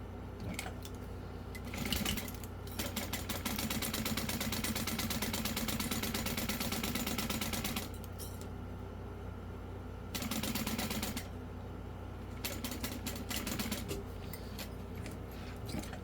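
A sewing machine stitches fabric while a Willow Wristlet is sewn, running in steady mechanical bursts with brief pauses between runs, the motor hum and rapid needle clatter sitting close and fairly quiet with no talking.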